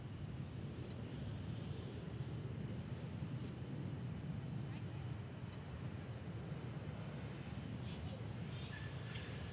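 C-17 military transport aircraft at Charlotte Douglas airport, a faint, steady broadband engine roar with no distinct peaks, heard from a distance and fairly uniform throughout.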